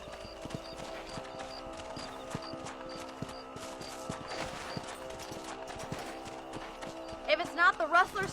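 Horses trot in the Red Dead Redemption video game, a steady rhythmic clip-clop of hooves under game ambience and music, with a brief louder burst of activity near the end.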